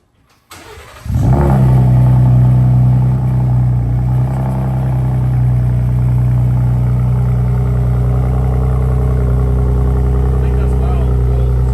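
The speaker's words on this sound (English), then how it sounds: "stick around for the audio clips of the new exhaust" A 2021+ Ford Raptor 3.5L truck engine with AWE SwitchPath exhaust, valve closed in normal mode, cranks and starts, revs briefly, then settles into a deep, steady idle with a low exhaust rumble throughout.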